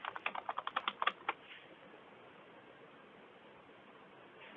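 A quick run of about ten light keystrokes on a computer keyboard as a catalog search is typed. The keystrokes are faint and close, then stop, leaving quiet room noise and a single final tap.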